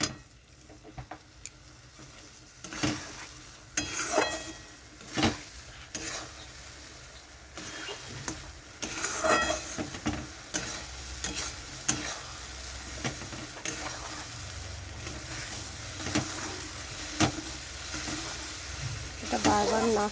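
Greens with shrimp fry in a pan on a gas stove, a soft sizzle and hiss broken by repeated scraping stir strokes at an uneven rhythm, fairly close and moderately quiet.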